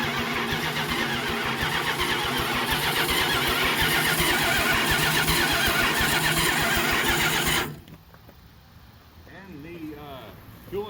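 A 1969 Chrysler 300 big block V8 cranks and fires, running loud and rough for several seconds, then cuts off abruptly, followed by quieter background and faint voices.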